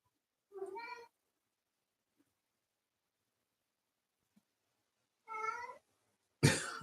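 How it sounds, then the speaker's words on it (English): A house cat begs with two clear meows spaced several seconds apart in a quiet room, followed by a short burst of noise at the end. "My cat's very beggy right now."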